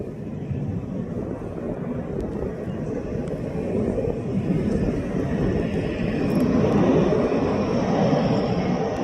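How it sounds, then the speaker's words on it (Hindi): Rafale fighter jets fly overhead at Ambala, India, producing a loud, continuous rumbling roar that swells gradually across about nine seconds with a dense low-end drone and no talking. "तो आसमान में गड़गड़ाहट राफेल विमानों की है और ये राफेल विमान अब भारत पहुंच चुके हैं।"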